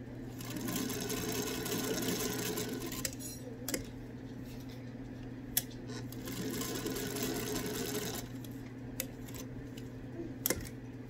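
A sewing machine stitching and back stitching a hanging towel, with a continuous close mechanical whir and a few small clicks and taps scattered through it.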